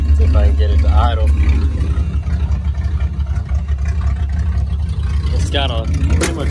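A loud 1984 Chevrolet Monte Carlo engine idles steadily with almost no exhaust, a rough, rumbling low drone and no muffling, running continuously throughout, with a voice talking faintly over it at times.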